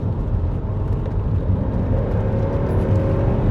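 Mercedes-Benz W124 E500 being driven through a corner, a steady low engine rumble and road roar heard from inside the car, with no voices.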